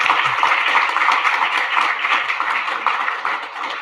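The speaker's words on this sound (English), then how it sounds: "Could we have a round of applause for our amazing panelists?" Audience applause for a panel of speakers at a post-election symposium, a dense, steady wash of many hands clapping that carries on evenly throughout.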